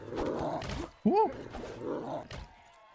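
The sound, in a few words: dogs in a video game combat arena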